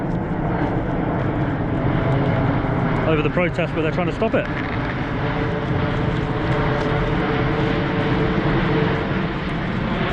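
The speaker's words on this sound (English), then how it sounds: "Very large plane going over the" Large Singapore Airlines jet passing overhead at a protest outside Windsor Castle, a steady heavy roar filling the whole stretch under continuous talking nearby.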